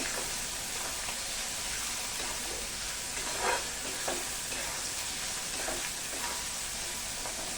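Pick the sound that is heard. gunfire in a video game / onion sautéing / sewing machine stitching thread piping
onion sautéing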